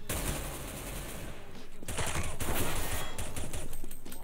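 Rapid automatic gunfire from a CS:GO match, loud and continuous with dense bursts of shots layered over game noise, no voices.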